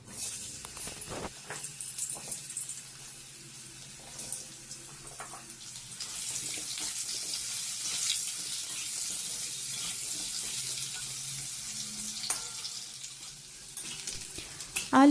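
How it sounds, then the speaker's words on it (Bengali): Cut potatoes fry in oil left over after frying hilsa fish, making a steady, close, hissing sizzle with a few faint clinks and no talking. "মাছ তুলে নেওয়ার পর যেই তেলটা রয়েছে তার মধ্যে কেটে রাখা আলুগুলোকে ভেজে নেব"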